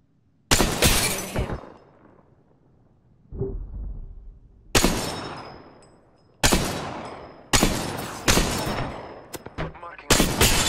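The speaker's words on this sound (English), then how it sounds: "Shots fired at me." Weapon fire in the Apex Legends video game, loud sharp bursts of gunshots in repeated volleys with ringing tails, punctuated by a short quieter gap and brief distant pops.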